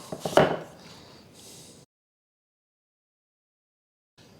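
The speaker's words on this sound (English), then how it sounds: "Then I'm going to slice these crosswise into roughly 1/4 inch slices." A knife slicing cored apples crosswise into quarter-inch slices gives a single sharp cut followed by brief scraping, then silence.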